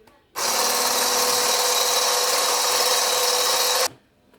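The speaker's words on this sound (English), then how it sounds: "Whisk it until it's light and fluffy for 4 minutes" An electric whisk beats cake mixture for a giant Jaffa cake in a home kitchen, a loud steady motor whine running about three and a half seconds with abrupt start and stop.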